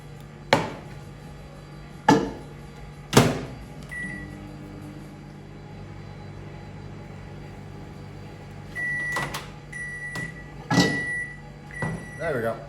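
A microwave oven hums steadily while heating chocolate for homemade truffles, broken by several sharp clunks and knocks and a few brief electronic beeps toward the end.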